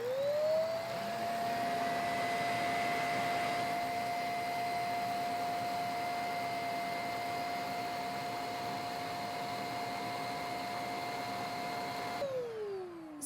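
A 450W mattress vacuum cleaner with a rotating brushroll runs steadily, its motor spinning up to a constant high whine over a broad airy rush, then winding down at the end.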